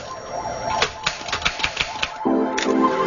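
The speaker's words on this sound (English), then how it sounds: "The Underwood was the first modern typewriter." An Underwood typewriter being typed on: a series of distinct mechanical key strikes in an uneven rhythm, close and clear over a steady background hum.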